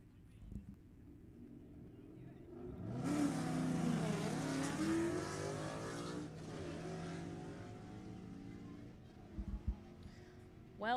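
Drag racing 2016 Ford Mustang GT cars rumble quietly at first, then burst into a loud, rising engine roar that holds for a few seconds and gradually fades. A commentator talks over parts of it.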